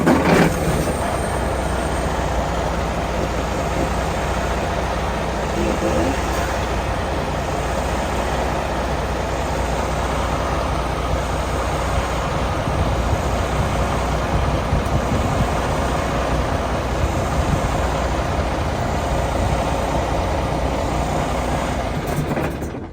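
A semi truck's diesel engine, started by remote start, runs at a steady idle throughout: a constant loud rumble with a dense low-frequency drone and no talking.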